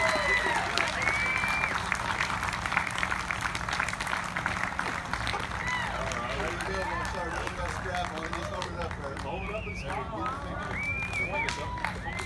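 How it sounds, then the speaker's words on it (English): A crowd at a bluegrass festival applauds a young banjo player with steady, sustained clapping and cheering that continues for the whole stretch. "so give him a round of applause"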